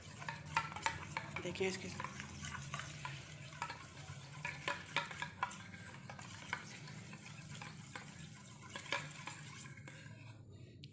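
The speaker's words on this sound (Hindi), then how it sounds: "1 चम्मच मैं इसमें डाल रही हूँ एलोवेरा जेल और इसको अच्छे से मिक्स कर लूँगी" A spoon stirring aloe vera gel into a homemade vitamin C night cream in a small bowl, soft repeated scraping and light clinks at close range, with a brief spoken word from a woman over it.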